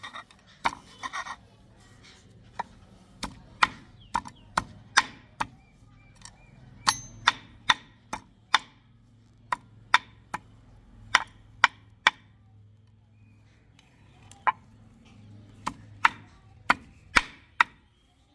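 Ingredients for a home remedy chutney being ground and pounded: sharp, separate knocks land at an uneven pace, with quiet grinding between them and no talking.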